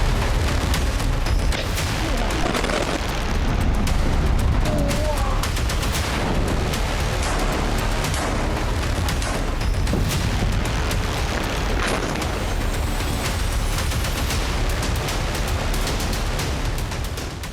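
Israeli strike on a large Hezbollah tunnel in Lebanon with about 400 tons of explosives, heard as a dense, continuous barrage of loud booms and crackling blasts with sharp repeated impacts, filling the whole stretch without letting up.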